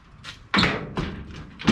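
A car door on a hot rod is shut, giving a solid close thud followed by a few lighter knocks and bumps in quick succession, with no talk.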